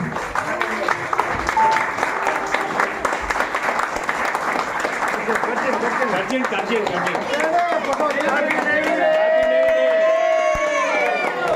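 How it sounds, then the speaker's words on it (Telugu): Crowd clapping and cheering at a Navy Day celebration held by Indian Navy veterans, dense applause mixed with shouts and voices, growing fuller toward the end, with people talking over it. "క్లాప్ కొట్టు"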